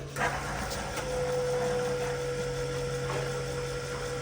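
An Airdog 165 diesel fuel pump runs steadily on a truck, a constant close electric whine and hum with a low drone underneath, holding even for the whole few seconds without speech.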